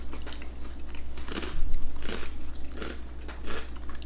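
Thin, light UK crackers bitten and crunched up close, a run of crisp, dry crackling bites and chews in an uneven rhythm, loud and near with no talking.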